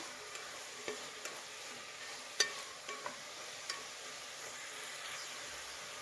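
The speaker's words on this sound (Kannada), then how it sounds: "ಮೂಲಂಗಿ ಕಟ್ ಮಾಡಿಬಿಟ್ಟು ವಾಶ್ ಮಾಡಿ ಅಂಥದ್ದು ಮೂಲಂಗಿನ ಫ್ರೈ ಮಾಡಿ" Radish pieces fry in a pan with tomato, giving a faint, steady sizzle broken by a few soft scraping stirs and light clicks, with no voices.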